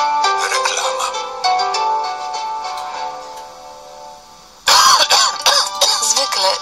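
In a radio advert for cough syrup, a stretch of gentle tonal music gives way to several loud, close coughing bursts in quick succession.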